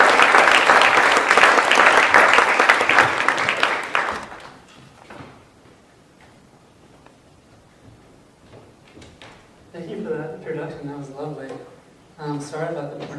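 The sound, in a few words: audience applause welcoming speaker Avi Steinberg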